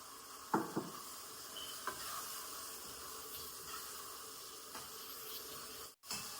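Pigeon peas (tuver) sizzle as they go into a frying pan and get stirred, with a steady frying hiss and a few sharp spoon scrapes early on, moderately close and with no voices.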